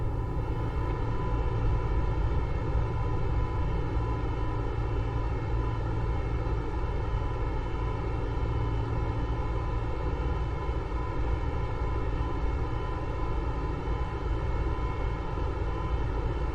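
An Airbus A320neo takeoff in Microsoft Flight Simulator 2020: a loud, continuous jet engine roar with a steady whine and tonal hum, constant in level throughout and with no voices.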